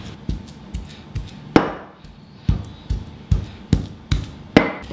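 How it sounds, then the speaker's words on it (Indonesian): Steamed sweet potato pounded with a stone mortar and pestle for somay peanut sauce, about a dozen sharp thuds in an uneven rhythm, close and fairly loud, with no talking. "ubinya Bang Sobat mau ulek aja,"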